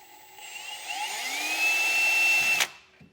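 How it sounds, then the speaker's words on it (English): A power drill with a 1/8 inch bit whines steadily and climbs in pitch as it bores through the metal bed of a 2018 GMC truck, then cuts off abruptly, followed by a faint clunk. "So I'll take an 1/8 inch drill bit"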